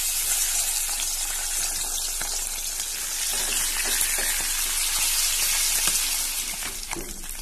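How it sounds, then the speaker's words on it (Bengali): Fish fry in hot oil in a home kitchen, giving a steady dense sizzle with small crackles and spatters throughout, fairly quiet and without speech. "তেলটা গরম হয়ে গেলে এর মধ্যে এই মাছগুলোকে ছেড়ে দেবো পুরো।"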